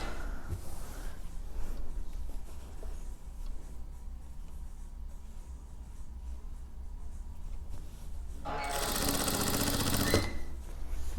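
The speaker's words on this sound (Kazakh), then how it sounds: "Соңына дейін тігіп барамыз." A sewing machine stitching the fabric layers of a single bedspread hums along steadily and quietly, then runs faster and louder in a short burst near the end, with no talking.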